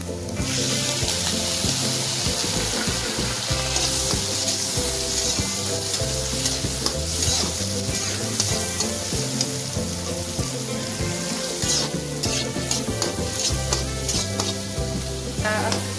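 Red tomatoes fry in a pan in a home kitchen while being stirred, giving a loud, continuous sizzle broken by repeated scraping strokes of the spoon against the pan, close up and with no voices.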